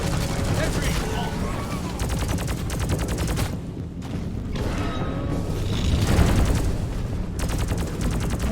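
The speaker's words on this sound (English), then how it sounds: "Sentry gun needs assembly." A sentry gun turret fires in bursts of rapid automatic gunfire in Deep Rock Galactic, loud and near, with short pauses between volleys amid other game noise, and voices talk over parts of it.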